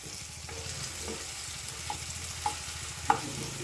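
Crushed green chillies and garlic added to hot oil for a fenugreek-leaf dish, a soft steady sizzle with faint scraping and a few light clinks of a spoon on the pan, fairly quiet and close; no talk.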